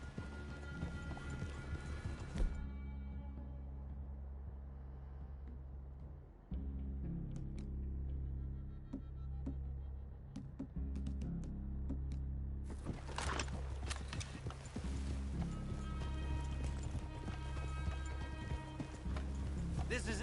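Steady hoofbeats of horses in a video game clip-clop at a walking rhythm, with a low game-like hum underneath and brief pauses before the trotting resumes.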